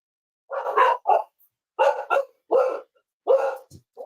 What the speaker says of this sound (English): it's probably my dog